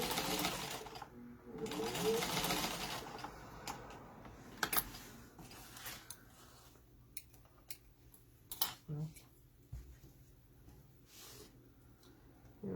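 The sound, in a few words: sewing machine top stitching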